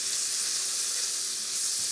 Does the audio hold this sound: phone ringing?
no